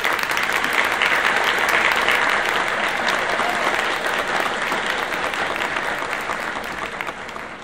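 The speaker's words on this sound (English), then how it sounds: "Let's have a round of applause for Carlo." Sustained round of applause from an audience, a loud, dense, even clapping that holds steady and fades slightly toward the end.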